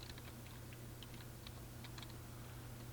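Soft, quick key taps on a computer keyboard come in irregular little bursts, faint and close, over a low steady hum with no voices.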